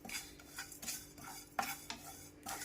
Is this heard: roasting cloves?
yes